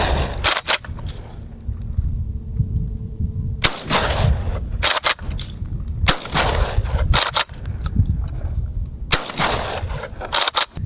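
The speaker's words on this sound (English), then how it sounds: "skeet shooting the tactical shotgun just doesn't seem like that much fun" Sharp, loud blasts from a UTS-15 tactical shotgun at an outdoor skeet-style shoot ring out in an irregular series of about six shots, each decaying between reports, with no voices.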